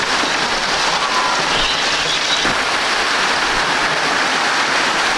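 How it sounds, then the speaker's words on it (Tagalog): Heavy rain pours down steadily near a fishpond, a loud, dense, unbroken hiss of drops drumming on a roof and surfaces, with no pauses throughout. "Ang lakas ng ulan."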